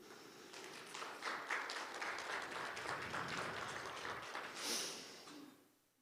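A small group claps quietly and unevenly for a few seconds to cheer a team, sounding faint and distant, then the clapping dies away into near silence.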